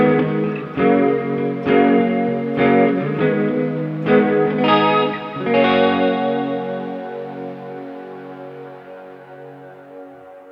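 Electric guitar played through a Mooer GE300 multi-effects unit on a lo-fi reverb setting: loud strummed chords struck roughly once a second, each washing into a long wet tail, then a final chord ringing out and decaying over several seconds.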